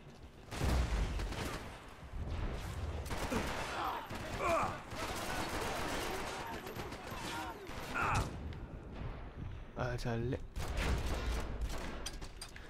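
Dense bursts of gunfire and explosions in Max Payne 3 crackle almost continuously, with mechanical clatter mixed in and voices faintly under the action.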